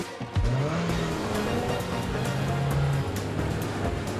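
A Nissan Altima with a fuel-efficient VC-Turbo engine drives in a car commercial, giving a steady, loud engine and road hum with a brief tire-squeal-like rise throughout, and no voices.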